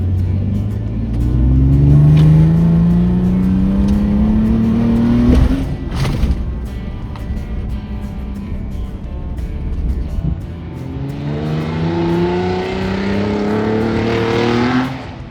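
A Ford Raptor truck accelerates hard along a rally course toward a small jump, its engine note rising through the gears, then dropping after a heavy thud. A second surge of revving builds near the end, loud and close.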